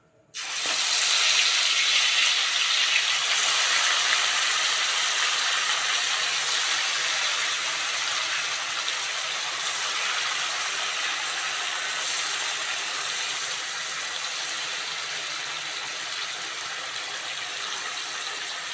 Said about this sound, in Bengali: তেল আর ঘি ভালোভাবে গরম হয়ে গেছে চিকেনের পিসগুলো প্রথমে দিয়ে দেবো